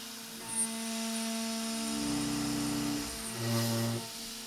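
A desktop gantry router cuts steel with an endmill, giving a steady tonal whine with harmonic ringing and a louder chattering surge near the end, with no voices.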